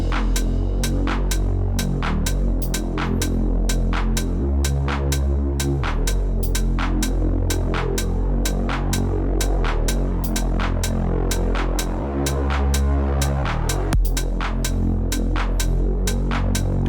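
A heavy bass house synth pad pulses in a steady rhythm with deep throbbing low end, while a crash swells in twice and its long release builds tension before dropping away; loud and continuous, with no voices.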